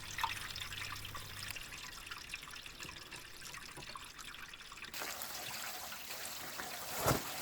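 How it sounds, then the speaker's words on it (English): Water flushes through the radiator of a Volvo BM 500 tractor, a faint, continuous trickle that brightens into a stronger rush partway through, with a brief splash near the end. "Now I'm able to fill the radiator with water, and by filling it I'm getting more pressure into it. The water is rushing faster."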